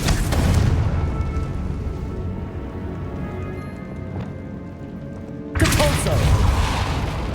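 A Confringo spell blast in Hogwarts Legacy hits with a loud explosive burst, followed by a quieter rumbling stretch and then a second heavy surge of noise near the end.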